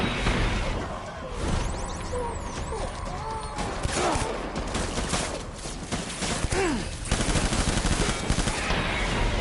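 Dense gunfire rattles through a firefight in the video game Death Stranding, rapid overlapping bursts and whooshes filling the whole stretch, loud and continuous with brief lulls.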